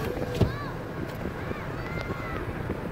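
Strong wind buffets the microphone at a ship embarkation port, a steady roar of gusty noise with faint whistling tones and scattered rumbles throughout.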